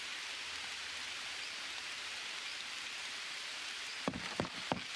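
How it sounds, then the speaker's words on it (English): Continuous rainfall in the Green Hell jungle, a steady close hiss of drops on surfaces, broken near the end by a few brief knocks or footsteps. "It's raining."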